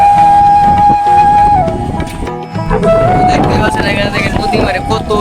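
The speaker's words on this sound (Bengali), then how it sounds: "প্রচুর বাতাস এখানে" Strong wind blows across a riverside as waves rise and trees sway, buffeting the microphone with a loud, constant rush under a steady tonal hum, while people talk throughout.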